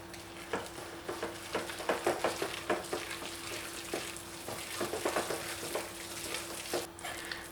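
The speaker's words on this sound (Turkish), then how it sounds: "Tekrar karıştırıyorum." Spoon stirring a zucchini and cheese savory cake batter with sugar, salt, black pepper and red chili powder in a bowl, giving repeated soft wet scraping and clicking strokes, close and steady, with no talking.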